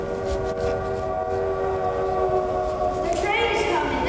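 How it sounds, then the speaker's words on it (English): A train comes closer with a long sustained horn blast, steady and loud, the tone shifting near the end, at an outdoor living-history event at a state capitol. "The train is coming."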